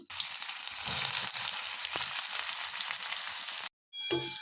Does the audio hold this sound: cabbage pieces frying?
yes